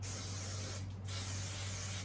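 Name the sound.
spraying hair styling product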